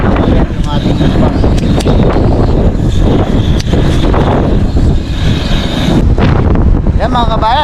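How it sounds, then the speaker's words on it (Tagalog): Strong wind on a bridge over water buffeting the microphone in a loud, continuous roar, with gusts throughout and faint sounds of people underneath. "sobrang lakas ng hangin"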